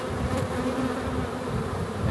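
Honeybees in a hive being worked with a smoker during queen rearing hum in a loud, dense, continuous buzz close by.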